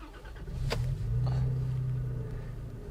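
A 2002 Toyota Tacoma's starter motor cranks with the truck left in first gear and the clutch released, a low steady whirring drone lasting a couple of seconds, close and fairly quiet.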